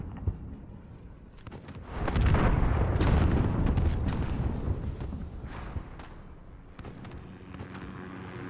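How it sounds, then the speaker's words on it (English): A cruise missile explodes in Call of Duty: Modern Warfare, a heavy rumbling blast that swells around two seconds in and rolls on for several seconds before easing into lighter battlefield noise. "Enemy cruise missile incoming."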